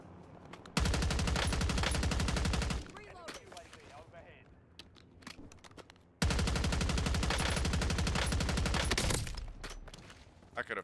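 Sustained bursts of rapid automatic gunfire in the Call of Duty battle royale mode, two long loud volleys separated by quieter scattered shots and game noise.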